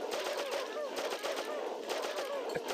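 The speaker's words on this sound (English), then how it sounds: "and shooting, and shooting, and shooting, and maybe some more shooting." Rapid gunfire from the video game Oddworld: Abe's Oddysee, a steady run of repeated shots firing in quick succession with no pause, loud and continuous throughout.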